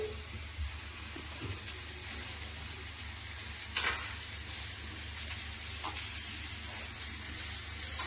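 Onions frying in a pan while modak is prepared for Ganpati, a steady soft sizzle running throughout with a few faint clinks, moderately quiet and close.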